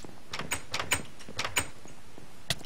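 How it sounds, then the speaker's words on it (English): A Minecraft video game door clicks open and shut several times in quick, irregular succession, crisp and fairly quiet. "I'm here to open the door for you."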